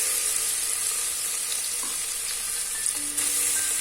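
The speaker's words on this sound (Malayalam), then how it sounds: "2 സവാള ചേർത്ത് കൊടുക്കുക." Two onions fry in a pan for prawn biryani, giving a steady, close sizzle with soft stirring scrapes and no voices.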